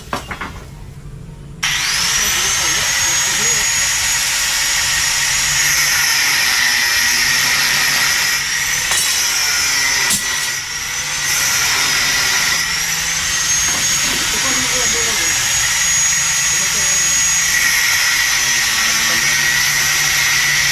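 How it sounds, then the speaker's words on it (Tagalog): A blender starts up and runs continuously with a loud, high whirring whine, its pitch wavering slightly as it spins. "Blender."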